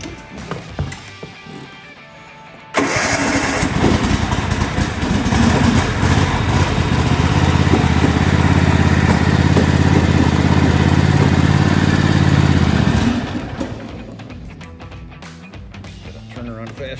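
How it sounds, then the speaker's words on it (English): A 2003 White Outdoor LT 1650 lawn tractor with a 42-inch deck cranks and catches, its small engine settling into a loud, steady running drone for about ten seconds before cutting back, with quiet handling noises around it. "Let's start out by starting her up here."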